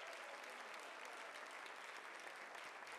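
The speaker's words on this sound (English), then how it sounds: "let's give a nice hand for all of you wonderful contestants this evening" Continuous, even applause from a pageant audience for the contestants at Miss Continental Plus 2013, a dense wash of many hands clapping at a quiet, distant level with no talk.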